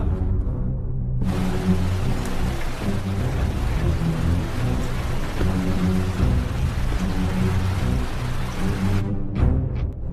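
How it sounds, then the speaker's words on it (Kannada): Rain pours down in a film scene as a steady, dense hiss that starts abruptly after a second and holds at an even level until cutting off near the end. "ಇನ್ನೂ ಮಳೆ ನಿಂತಿಲ್ಲ"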